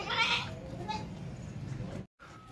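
A fat, healthy milk goat gives a short quavering bleat at the outset, followed by softer farmyard murmur and a faint voice in the background.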